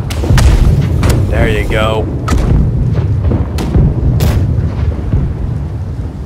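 Pirate ship cannons firing in the naval combat game Blackwake, booming blasts spread through the clip under steady battle noise, with a short spoken remark early on.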